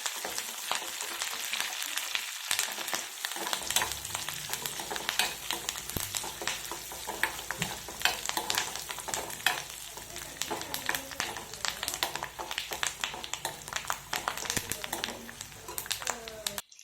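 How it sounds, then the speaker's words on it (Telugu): Mustard seeds and garlic sizzle and crackle in hot oil for a dal tempering, a dense bright frying hiss with scattered pops and stirring taps, starting after a few quieter seconds and running steadily. "ఆవాలు, వెల్లుల్లిపాయలు వేస్తున్నాను."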